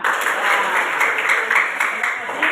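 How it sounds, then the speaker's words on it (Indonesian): A class of pupils claps hands together on a teacher's cue, a steady, fairly loud patter of many hands filling the room, with children's voices blended in. "Tepuk tangan."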